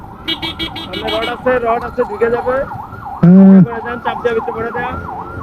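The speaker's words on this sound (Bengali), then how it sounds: "ও অ্যাম্বুলেন্স অ্যাম্বুলেন্সে রোগী আছে মনে হয়" A loud wailing ambulance siren rises and falls repeatedly close by, with a brief blaring horn in the middle.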